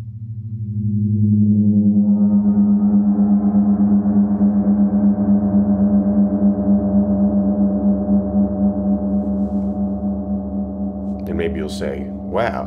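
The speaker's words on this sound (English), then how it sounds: "we'll recommend something like this Flumie, and then you'll hear it on something like this," A Flumie friction mallet is drawn across a 30-inch wind gong, raising a low moan that swells into a loud, sustained, shimmering drone with slow beating, then a few soft knocks near the end.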